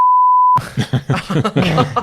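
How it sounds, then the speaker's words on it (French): A loud steady censor bleep tone for about half a second, then a voice starts talking right after it. "ça tu peux biper là"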